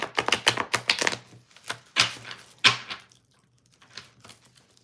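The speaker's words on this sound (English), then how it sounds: "let's shuffle, or attempt to shuffle" A deck of cards is shuffled up close in a series of sharp, crisp riffling bursts and flicks, loud at first, then thinning into softer, scattered taps toward the end.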